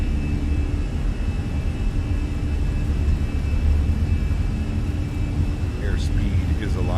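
Fenix A320 airliner engines spooling to takeoff power on the runway in Microsoft Flight Simulator: a steady, loud low roar and rumble that holds throughout, with a faint voice briefly audible near the end.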